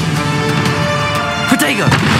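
A Bombarda blasting spell goes off in the Hogwarts Legacy video game, heard as booming, thudding game explosions and impacts layered over constant music and effects, with a louder burst near the end.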